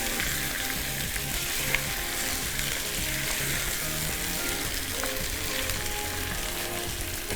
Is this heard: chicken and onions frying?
yes